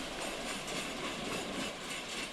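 A train passes on rails along the New River Line near Thurmond, a steady, loud, close rumble of wheels and cars rolling by with faint clacking and no voices.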